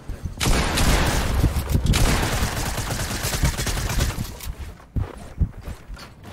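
Gunfire in a robot-versus-player shooting video game: loud, dense bursts of rapid shots fill the first seconds, then thin out into scattered single reports and a few sharp bangs near the end.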